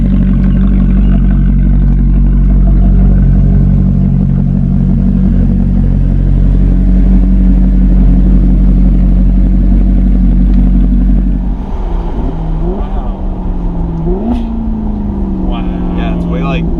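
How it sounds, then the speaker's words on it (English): A straight-piped Maserati GranTurismo MC idles with a deep, loud exhaust rumble, then revs in sport mode with its valves open, the pitch rising and falling in several sharp blips. "Now we're gonna put it back into sport mode so you can hear the valves open."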